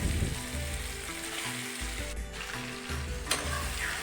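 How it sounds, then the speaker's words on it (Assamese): Taro pieces frying in a pan with jackfruit seeds and a little turmeric, a steady close sizzle running throughout with faint stirring scrapes. "এতিয়া মই লাহেকৈ কচুখিনি দি দিছোঁ।"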